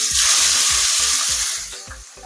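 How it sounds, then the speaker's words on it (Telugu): Chopped onions sizzle in hot oil in a kadai on a stove, a loud, close, continuous hiss over a regular low thumping that eases off toward the end. "ఫస్ట్ స్టవ్ ఆన్ చేసి బాండి పెట్టి ఆయిల్ వేసుకున్నానండి. అందులో కట్ చేసిన ఉల్లిపాయలు వేస్తున్నాను."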